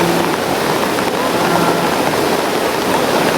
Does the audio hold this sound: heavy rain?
yes